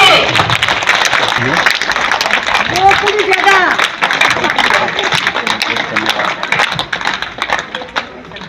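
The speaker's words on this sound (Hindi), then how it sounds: "तालियां हो जाए जोर से" A crowd at an International Women's Day gathering held by a trust claps steadily and densely, filling the space with continuous applause while voices carry over and under it.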